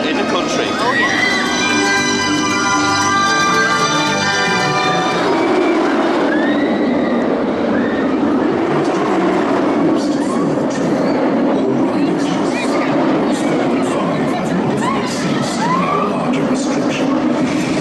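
A B&M inverted roller coaster train roaring loudly along its track at Thorpe Park, a whining mechanical tone at first, then continuous rumbling with riders' shouts mixed in.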